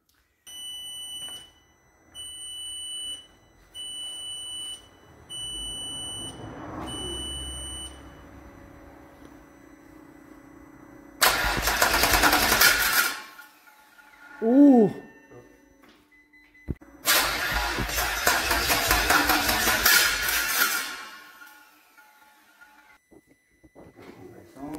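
A car with a weakening battery is started: a few steady dashboard beeps first, then two loud, harsh bursts of cranking and engine noise, each lasting several seconds, close by with faint background sounds in between.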